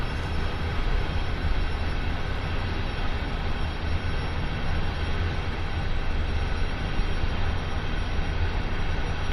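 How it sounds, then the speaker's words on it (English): A locomotive-hauled freight train on the Sand Patch Grade in Train Sim World 2 rumbles continuously with a steady, dense engine and rail roar, holding an even, loud level from start to finish with no talking. "So his lead loco should now be going through that signal."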